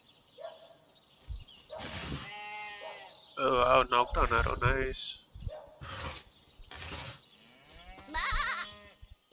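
Cartoonish sheep bleats from the video game Divinity: Original Sin, several wavering cries mixed in with a player talking excitedly over them.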